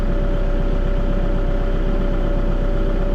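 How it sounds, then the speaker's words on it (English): A tractor engine idles steadily on a frozen farm at night, a continuous low diesel rumble with a constant hum, close and loud throughout with no talking. "I'm gonna kill the tractor so I don't run out of fuel."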